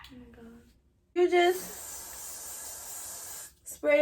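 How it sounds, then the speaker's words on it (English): An aerosol can sprays in a long, close, steady hiss around a bald cap during a deep wave wig install, lasting a couple of seconds between brief bursts of a voice. "just spray around there."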